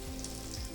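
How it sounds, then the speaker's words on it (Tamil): Spices, browned for masala khichdi, fry in hot oil with a soft, steady sizzle and crackle, faint and close, lasting under a second with no voices. "எண்ணெயில் இதெல்லாம் நல்லா வறுபட்டுட்டு பார்த்தீங்கன்னா வெந்தயம் இல்லாமல் நல்ல ப்ரௌன் ஆகிடுச்சு"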